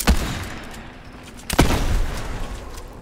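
Two sharp, loud gunshots from a video game, one at the start and another about a second and a half later, each trailing into a rumbling reverberant tail over steady background noise.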